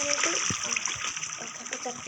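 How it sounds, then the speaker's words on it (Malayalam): Water rushes down like a waterfall in the Minecraft video game, a continuous splashing flow heard under a person talking over it. "ഇവിടെ നിന്ന് വെള്ളം അവിടെ നിന്ന് വെള്ളച്ചാട്ടം പോലെ ഒഴുകിയാണ് വരുന്നത്"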